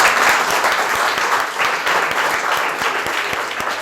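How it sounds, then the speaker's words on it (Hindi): Applause at a CBSE Class 12 result celebration as a student is welcomed and garlanded: a loud, dense crowd clapping close by, continuous and energetic, with some individual claps sharper than the rest. "चलो तालियां।"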